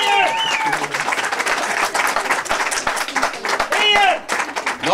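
Wedding guests at a bride-requesting ceremony applaud in a dense, sustained burst of clapping from a crowd, with cheering voices rising through it.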